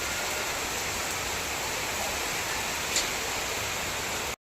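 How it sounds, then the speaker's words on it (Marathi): A sudden, heavy rain pours in a continuous broadband hiss, steady and fairly loud, with one faint tick partway through before it cuts off abruptly. "अचानक पाऊस आला इतका जोरात"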